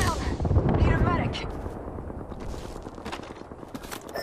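Heavy gunfire in the Apex Legends battle royale game, a dense burst of booming shots close and loud at the start that thins into scattered cracks and rattling fire further off.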